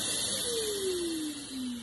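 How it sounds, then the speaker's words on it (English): A Festool CT26 dust extractor vacuum keeps running after its power tool is switched off, giving a steady broadband hiss with a motor whine that slowly drops in pitch, heard alone without talk. "once I turn the tool on, the vacuum comes on automatically"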